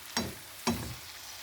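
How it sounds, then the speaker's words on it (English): Shrimp and spinach fry in a pan, giving two short, sharp sizzling bursts about half a second apart that quickly fade into a soft background hiss. "Make sure it's frying, make sure the shrimp is still cooking"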